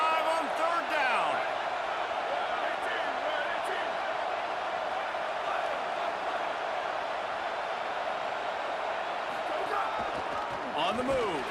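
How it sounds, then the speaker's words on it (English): Steady, roaring stadium crowd at an Ohio State Buckeyes home game in EA Sports College Football 27, a dense continuous wash of cheering and noise on third down, with scattered sharper shouts rising out of the crowd. "The Buckeye crowd alive on third down."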